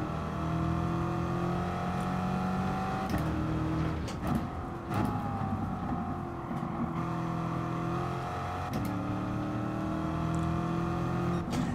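A race car engine held at flat throttle in Gran Turismo Sport during a qualifying session, droning loudly and steadily with its pitch sliding through gear changes, broken by short lifts and shifts.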